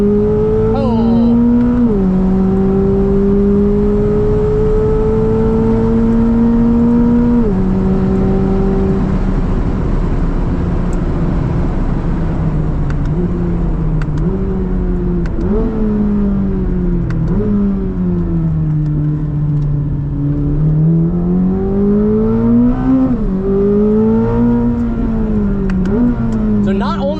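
A 2025 Corvette ZR1 with 1,000 horsepower on R compound tires, engine accelerating hard with rising and shifting pitch through gear changes, loud and continuous from inside the car, with a voice speaking over it.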